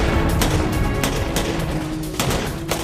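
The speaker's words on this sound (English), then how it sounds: "Responding to the gunfire" Dense rapid gunfire and sharp rifle cracks from a World War II firefight in France, loud and continuous with a few heavier thumps, no talk.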